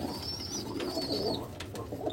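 Several Abluk pigeons coo in a home collection loft, a continuous low burbling at moderate distance, with a thin whistling tone drifting above it early on.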